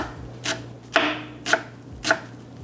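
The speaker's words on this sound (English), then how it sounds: "Chopping cilantro is always fun." A knife chopping fresh cilantro on a cutting board, four crisp evenly spaced cuts about half a second apart, close and distinct with no talking.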